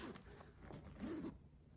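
Zipper being pulled on the cover of a tri-fold foam folding floor mattress: a faint, close, brief scratchy zip run with a short toothy burst near the end, quiet overall.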